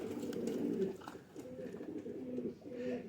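Kasuri high flyer pigeons coo steadily from close by in a loft, a low rolling murmur that continues in phrases through the clip, with a voice speaking faintly in the background.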